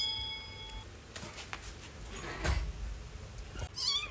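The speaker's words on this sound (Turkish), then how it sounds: "artık miyavlamaya başladı" A cat meows a few times, short rising calls near the end, over a faint background with light rustling and handling noises.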